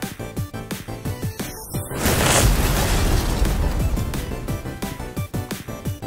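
A cartoon explosion effect in an animated locomotive battle erupts as a loud, booming burst about two seconds in, rumbling and hissing for a couple of seconds over a thumping backing track before fading back under the music.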